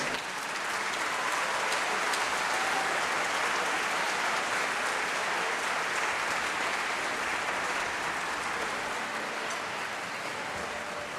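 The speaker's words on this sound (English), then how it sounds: "let's applaud our orchestra as they leave the stage." Sustained applause from a large concert-hall audience for a schools' orchestra leaving the stage, steady and dense clapping filling the whole stretch without a break.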